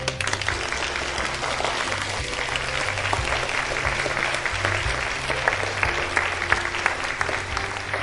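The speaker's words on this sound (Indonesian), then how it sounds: "Tepuk tangan, terima kasih." An audience at a charity event applauds, a dense, sustained wash of many hands clapping at an even level throughout, close and loud.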